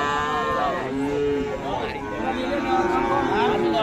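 Cattle moo repeatedly at a livestock market. The calls are long and drawn out, come from close by and overlap, with people talking underneath.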